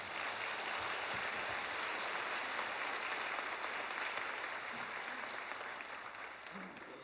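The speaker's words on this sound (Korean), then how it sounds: "목사님 나오실 때 박수로 환영하겠습니다." A church congregation gathered for an early-morning revival service applauds steadily as the pastor comes forward, a dense, continuous wash of many hands that fades slightly at the end.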